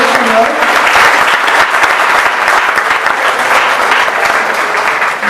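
A church congregation at a Christian service breaks into loud, sustained applause, dense clapping filling the room continuously with scattered voices mixed in.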